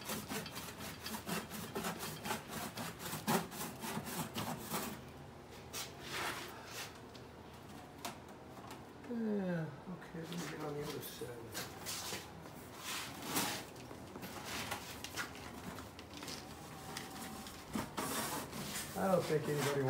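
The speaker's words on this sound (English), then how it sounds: "It's just generally what we're doing is filing it to make it smooth" Filing a car's side kick panel smooth on a Lamborghini-type build: steady rasping and scraping strokes of a file on metal, continuous and close, with occasional bursts of louder scraping.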